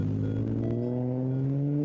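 Loud cars pass close by in a steady, rising engine drone that fills the whole stretch with no talk over it.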